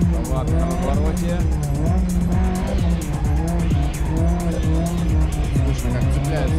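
Car tires squeal and chirp on asphalt during a winter gymkhana run as the engine revs hard through turns, loud and close, with an excited commentator talking over it throughout.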